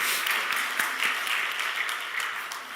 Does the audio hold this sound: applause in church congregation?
yes